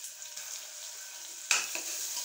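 Ginger garlic paste frying in a pan for mutton gravy: a steady hiss of sizzling oil, with a louder burst of crackling about two-thirds through as the paste hits or is stirred, continuing close and alone.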